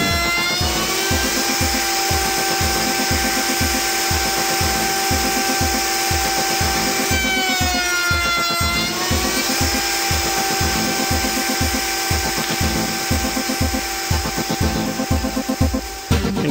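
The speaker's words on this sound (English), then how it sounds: "Now you're ready to secure your rails in the coping sled and cut both ends of each piece." A router in a router table cuts the ends of door rails held in a coping sled, a loud steady high whine with rhythmic pulsing throughout.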